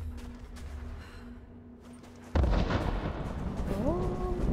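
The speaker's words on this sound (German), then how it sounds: "Sie sprengen sich den Weg frei." Explosions blast a path open in the video game Rise of the Tomb Raider: after a low rumbling lull, a sudden loud boom erupts and its roar keeps rumbling, with a rising whine layered on top near the end.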